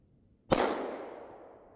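A single gunshot rings out at a shooting range while testing an Olight Osight, a sharp, loud crack followed by a long fading echo tail.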